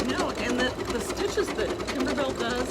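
An embroidery sewing machine stitches a Kimberbell lemon design, a steady rapid mechanical whir and needle patter running throughout, close by, with someone talking over it.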